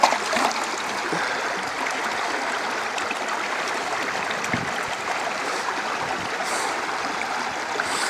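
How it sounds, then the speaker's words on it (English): Water rushes steadily through a gold prospecting sluice, a constant close, loud babbling flow with no pauses or voices. "sluice is running a bit funny"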